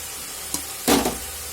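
Fried potatoes and vegetables hit a sizzling gravy for shukto, with a steady hiss of frying and a brief louder sizzling stir, close and without talk.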